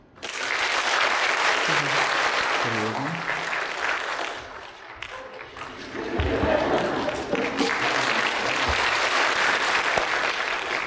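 A live comedy show audience claps loudly in dense bursts, broken by a short dip and someone speaking, then the applause swells again to full volume.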